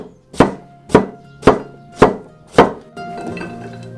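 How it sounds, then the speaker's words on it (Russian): Five evenly spaced knife chops through a quartered cucumber on a cutting board, crisp close thuds about half a second apart, followed by a brief softer rustle. "Разделяем огурец на 4 части и крошим в поперек"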